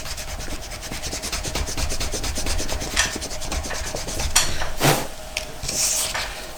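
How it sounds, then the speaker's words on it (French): A pencil line is rubbed out with an eraser on paper, a series of quick scratchy back-and-forth rubbing strokes in a steady rhythm, close and fairly loud, with a few sharper scrapes near the end. "J'essaye de gommer ce trait-là."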